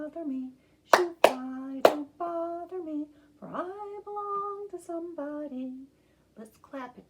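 Small groups of hand claps from children keeping time with a sung nursery rhyme, a few sharp claps near the start between sung phrases, with voices singing throughout.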